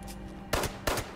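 Two sharp gunshots from zombies in the video game Fallout 76 crack in quick succession about a third of a second apart, loud and close over a low hum.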